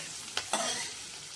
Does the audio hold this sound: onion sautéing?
yes